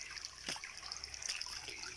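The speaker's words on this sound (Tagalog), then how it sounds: "May ganyan lagaslas ng tubig." Water trickles and babbles in a small jungle stream, a steady, close, soft wash of flowing water with a few brighter splashy bursts and no talking.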